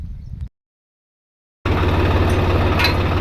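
A brief tractor engine rumble, then silence, then a loud, steady low diesel drone of the tractor idling close by.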